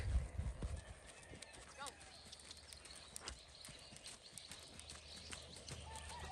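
A Missouri Fox Trotter horse moves at a running walk, its hoofbeats a steady rhythmic clip-clop at moderate distance, with a louder thump at the start and continuous background noise throughout.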